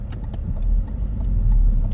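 A BMW 318i E46 with a smaller four-cylinder engine driving through the city, a steady low engine hum and road rumble heard from inside the cabin, with faint ticks and rattles on top.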